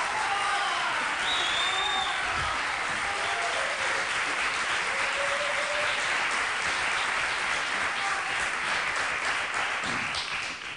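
Studio audience applauding on a Spanish television talk show, sustained even clapping for about ten seconds with faint voices underneath, tapering slightly at the end.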